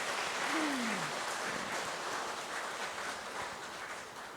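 A church congregation at a Sunday service claps together in a steady, dense wash of applause that stays even and moderately distant throughout.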